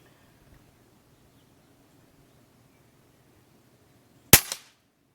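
A single sharp crack from a customized .22 Benjamin Maximus air rifle built Marauder-style, firing RWS Hobby pellets through a chronograph outdoors, loud and close after a quiet stretch with a faint tick.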